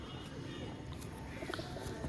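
Pigeons giving low, soft coos nearby, faint and intermittent over a quiet background, with a trace of voice.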